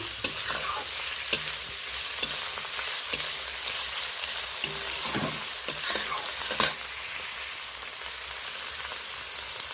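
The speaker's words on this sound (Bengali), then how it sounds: "3-4 মিনিট ধরে ভালো করে নাড়াচাড়া করে নেব" Chopped onion and tomato sizzle and fry in a pan over a low gas flame while being stirred, a steady close sizzle with sharp scraping clicks from the utensil at intervals.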